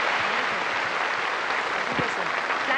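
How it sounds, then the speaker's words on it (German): Audience applause at a celebration, a dense, even roar of many hands clapping continuously, with faint voices mixed underneath. "Wir können das eigentlich nur mit einem richtig lieben Applaus."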